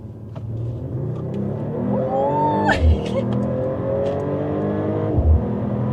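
A Mercedes-AMG six-cylinder car accelerates hard from 40 to 120, its engine note rising in pitch through the gears with two brief thumps at the shifts, heard loud from close by.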